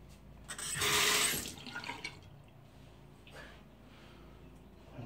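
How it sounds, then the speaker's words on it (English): A razor is briefly rinsed under running water from a tap after shaving, making a short, close splash of about a second. Quieter drips and faint rustling follow. "Rinse that off."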